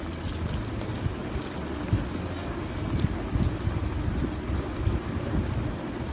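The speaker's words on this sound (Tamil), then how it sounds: "இப்போது வடை மாதிரி தட்டி நல்லா சூடான எண்ணெயில் நம்ம சேர்த்துக்க போகிறோம்." Beetroot lentil vadai fry in hot oil, giving a steady, close bubbling and crackling hiss with scattered small pops.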